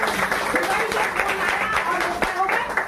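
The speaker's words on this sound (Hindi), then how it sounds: "पिता को धन्यवाद, एक जोरदार ताली बजाएं।" Congregation applause at a religious gathering, steady clapping from a crowd with a voice speaking over it.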